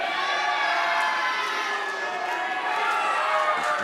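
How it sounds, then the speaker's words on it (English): A wrestling show's arena crowd roars and cheers steadily and loudly throughout, a dense, continuous wall of voices with occasional shouts rising above it. "listen to this absolutely ravenous crowd here. They want more."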